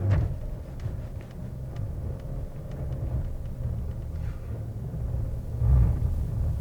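A Chevrolet Traverse or Hyundai Palisade SUV in sand mode strains up a steep, slippery sand dune, giving a faint, low engine rumble with uneven surges and a louder push near the end, no speech.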